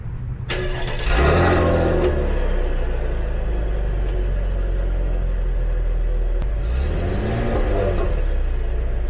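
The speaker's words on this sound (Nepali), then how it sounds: "अब गाडी स्टार्ट गरेर पनि सुनाइदिउँ।" A Chevrolet Camaro engine starts up and settles into a loud, deep idle, then gets a couple of revs that swell and fade, recorded close with no talking.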